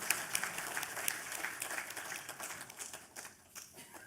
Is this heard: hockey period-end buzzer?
no